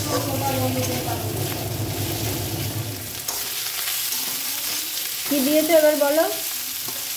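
Onion, garlic and ginger fry in hot oil in a home kitchen, giving a close, steady sizzle and crackle that fades somewhat partway through, while a woman and another person talk over it.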